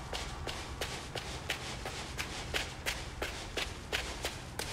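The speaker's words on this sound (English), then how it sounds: "Let's hear me run out of breath by jogging 5 feet." Footsteps jogging in Construction Simulator, a steady run of about thirteen quick, evenly spaced light thuds over a constant low background hum.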